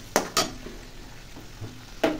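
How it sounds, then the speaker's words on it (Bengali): Potatoes frying in a pan as the base for fried rice, with a soft sizzle under a few sharp scrapes and clinks of a stirring utensil spaced through the short stretch. "আমি ভাত ভাজার জন্য আলু ভাজা বসিয়ে দিয়েছি"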